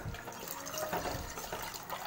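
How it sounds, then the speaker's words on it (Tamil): Water is poured from a vessel into ragi powder for mixing a health drink, giving a steady close gurgling splash that runs throughout without talk. "தண்ணி விட்டு மிக்ஸ் பண்ணிக்கலாம்"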